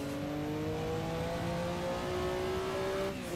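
A Porsche 962C race car powers out of a corner on the Nordschleife in Assetto Corsa, its engine note rising steadily as it accelerates, loud and close, with a brief easing off right at the end.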